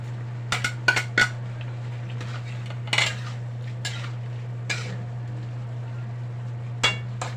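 A spoonful of sugar added to chicken adobo in a pot, with scattered metal spoon clinks and scrapes against cookware over a steady low hum.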